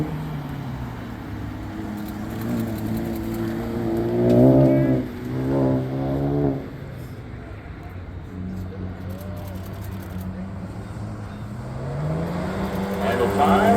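An autocross car runs its final lap, engine rising and falling through repeated accelerations and lifts, fairly close, with a commentator talking over it throughout.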